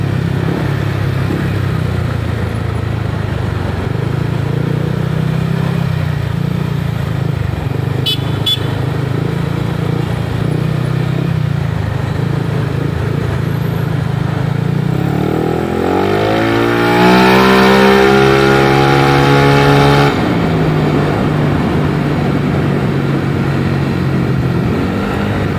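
A Yamaha Lexi 155cc scooter hums along at a steady engine drone on a road, then revs hard and accelerates with a rising whine before settling back, with passing traffic around it.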